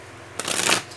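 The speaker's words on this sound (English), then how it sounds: "na-shuffle ko na po ito. Nare-reshuffle ko lang po ulit." A brief, close riffle of tarot cards being shuffled, a quick papery burst lasting under half a second.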